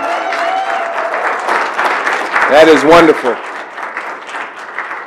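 Applause from an audience at a board of education meeting, a busy, steady patter of clapping that carries beneath someone speaking throughout.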